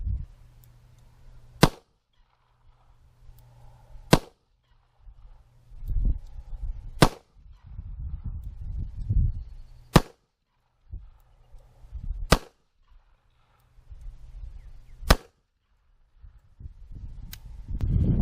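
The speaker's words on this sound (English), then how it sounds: "you will notice 6 shots on the target as we test for accuracy from 15 yards, unrested position, with the same Gecko 38 Special ammo" Seven sharp revolver shots from a stainless Kimber K6s firing Gecko 38 Special ammo at an outdoor range, fired at intervals of a few seconds, each crack loud and distinct over quiet background rumble.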